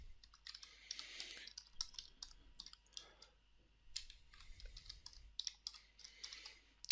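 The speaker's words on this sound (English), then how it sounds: "We can just type them in." Product names are typed on a computer keyboard in quick, uneven bursts of soft clicking keystrokes, close and quiet, with brief pauses between words and no talking.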